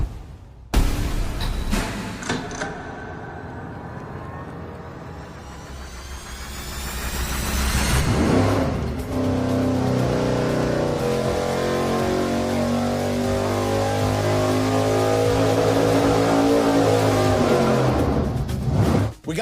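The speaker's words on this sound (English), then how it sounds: "pretty soon you're gonna see our LS run on its first shot with the original hose" A 6.0L LS V8 on a dyno fires up, revs through a rising sweep, then holds a loud, sustained roar under its first nitrous shot, with the note climbing steadily before cutting off.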